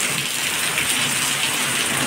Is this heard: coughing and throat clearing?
no